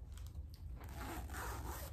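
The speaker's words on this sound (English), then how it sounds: "Got a zipper." A pillowcase zipper is pulled open in a quick, continuous rasping run, close and fairly loud, lasting about two seconds without talk.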